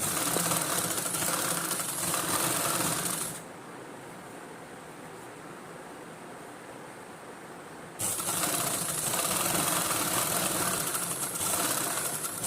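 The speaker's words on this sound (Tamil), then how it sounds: "படிமான தையல் போட்டதுக்கப்புறம் இன்னொரு பக்கமும் தைச்சிக்கலாம்." A sewing machine stitches a collar on a government school uniform coat, running in a loud, steady whir that drops away to a quiet pause midway before resuming at full speed.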